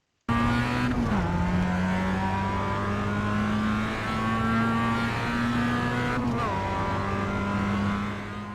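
Mazda Global MX-5 Cup race car lapping Laguna Seca in the iRacing simulator, its engine droning steadily at high revs with brief dips and shifts around one and six seconds, loud and continuous, with no one talking.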